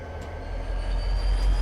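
Steady low rumble of a train riding along in a flight simulator game, a continuous rolling drone with a faint high whine, no talking.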